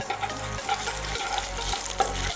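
Cumin, mustard and fenugreek seeds frying in oil and ghee, a busy close sizzle with steady crackling under repeated stirring scrapes, no voices.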